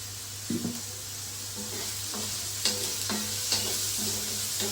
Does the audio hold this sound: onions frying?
yes